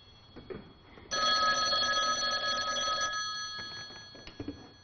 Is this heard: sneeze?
no